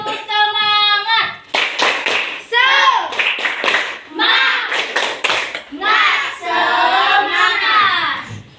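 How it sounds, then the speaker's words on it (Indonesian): Schoolchildren in an Indonesian classroom perform a tepuk semangat spirit clap. Bursts of rhythmic group claps alternate with chanted voices, loud and close, and steady patterned clapping carries through the sequence. "Ayo kita tepuk semangat dulu. Tepuk semangat."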